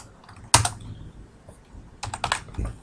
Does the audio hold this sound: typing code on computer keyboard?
yes